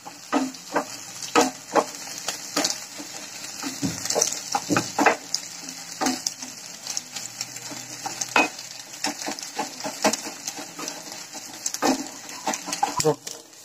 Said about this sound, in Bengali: ডিমটা এখন আমি ভালোভাবে ভেজে নিব। ভুজিয়ার মতো করে ভাজবো।